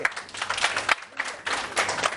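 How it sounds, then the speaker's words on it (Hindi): Scattered audience applause on a morning TV show set, coming in bursts of moderate clapping that swell and fade, with a voice talking over it. "तालियां अब्दुल्ला के लिए"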